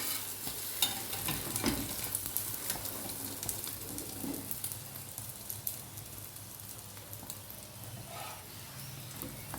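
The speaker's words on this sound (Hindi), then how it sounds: "कितना खूबसूरत अंडा जो है पराठा जो है फ्राई हो रहा है।" Egg paratha frying in a pan, a steady close-up sizzle with soft crackles and spatters, occasional louder pops and stirring scrapes, and no voices over it.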